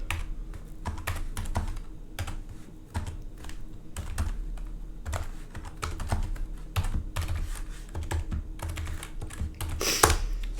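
Computer keyboard typing Java for loop code; a close, steady stream of rapid key clacks with brief pauses and a louder burst near the end, no speech.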